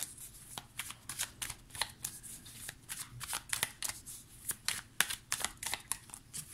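Tarot cards shuffled by hand, a steady run of close, crisp riffling and snapping bursts repeating several times a second, clear against a quiet room.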